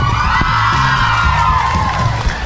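A large live audience at a podcast show in Tulsa cheers, whoops and yells together in a loud, sustained wash of crowd noise, with scattered shouts rising above it.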